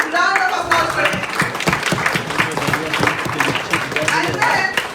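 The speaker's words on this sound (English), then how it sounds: "So big round of applause for him" A big round of applause at a general convention, dense sustained clapping from a large crowd that fills the room steadily for several seconds, with a voice faintly audible underneath.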